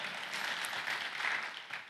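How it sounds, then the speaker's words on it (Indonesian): Church congregation applauding during a Sunday service, a dense, even wash of many hands clapping at moderate distance, sustained throughout without a clear build or fade. "Yang setuju beri tepuk tangan yang meriah buat nama Tuhan"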